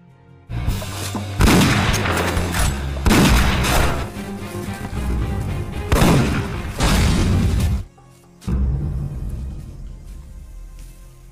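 Gunfire in an action film shootout: loud, dense bursts of shots and booms in long sustained volleys, breaking off briefly before resuming.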